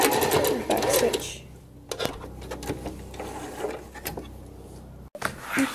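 Sewing machine back-stitching thick fabric for a dog coat, short close bursts of rapid needle clatter separated by pauses, handling noises and a brief tug on the cloth.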